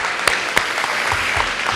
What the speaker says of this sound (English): Again, round of applause for our coaches.